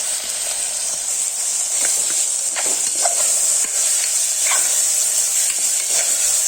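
Chicken pieces go into a hot pan already holding ginger, garlic and pepper. They give a steady, close, loud sizzle with faint stirring scrapes and no talking.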